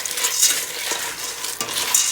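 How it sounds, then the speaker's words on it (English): Pasta shells are stirred through hot oil in a pot, giving a bright, close sizzle with soft scraping and clinking from the utensil in short bursts; no talking. "I'm going to just mix that around so all the shells are coated in the oil"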